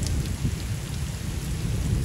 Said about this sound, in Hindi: ये देखें दोस्तों कितनी तेज़ बारिश हो रही है